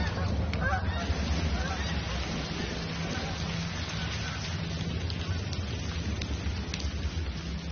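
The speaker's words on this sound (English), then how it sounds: "And the wild geese flew away." Geese honk faintly over a steady hiss like rain, their calls scattered and distant throughout.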